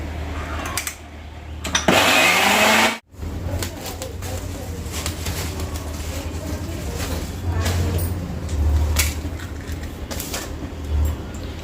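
An electric mixer grinder, a chopper machine with a broken cord, gives a brief loud whirring burst, then stops abruptly. Household background noise and voices fill the rest of the time.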